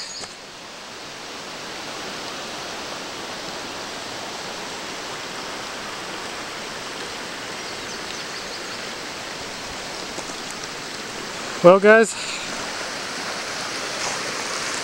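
Bandy Creek at Big South Fork, Tennessee, rushes steadily through the woods as a constant broadband wash of flowing water, with a brief spoken remark late in the recording.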